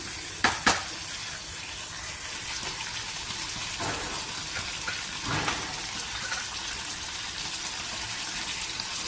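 Sugar stirred into poppy seed halwa in a pan, a soft continuous sizzle with scraping spoon strokes and a couple of sharp clinks near the start, no talking.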